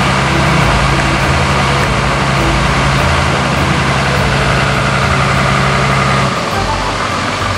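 Pumps running noisily at the Herculaneum ruins site in Italy, a loud steady engine-like drone with a low rumble that drops slightly near the end.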